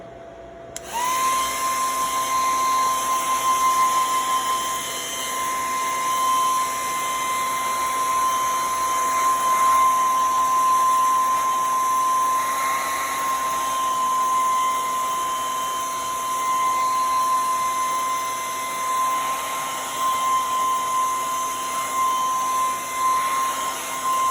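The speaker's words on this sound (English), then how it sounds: "Again, I'm going to use my blow dryer." A hair dryer blows on paint with a steady, continuous high-pitched whine and airy rush, running nearly unchanged for the whole stretch.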